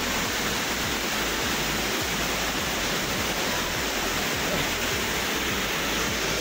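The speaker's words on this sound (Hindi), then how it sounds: "यहाँ पे वाटरफॉल मिला हमको छोटा सा" A small waterfall along the Kedarnath trekking route roars with a steady, dense rush of falling water, close and unbroken throughout, with no voices heard over it.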